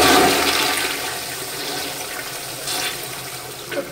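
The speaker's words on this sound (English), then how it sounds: "Nice, noisy flush." A VitrA toilet in a McDonald's restroom at Ramsgate Manston Airport services flushes loudly, a close, rushing gush of water that gradually settles into refilling flow.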